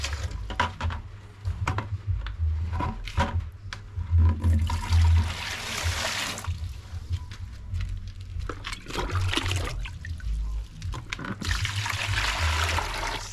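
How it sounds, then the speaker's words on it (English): Clean water pouring into a washing basin to start hand-washing laundry, a steady splashing trickle and gush running throughout at close range, with no talk. "I'm just putting clean water so that I can start my washing."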